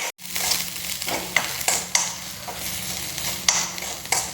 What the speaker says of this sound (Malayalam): ഉള്ളിയൊക്കെ അങ്ങനെ നന്നായി വഴന്നിട്ടുണ്ട്